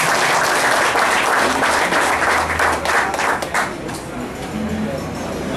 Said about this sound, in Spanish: Yo quiero que le den un aplauso a Felipe.